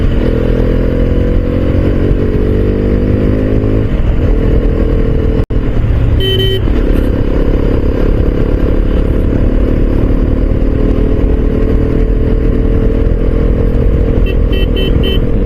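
A motorcycle ridden on roads around Pune, Maharashtra, its engine droning loud and close with rising and falling revs through gear changes, wind buffeting the microphone and a brief clunk midway.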